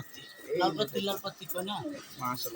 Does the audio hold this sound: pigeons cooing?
yes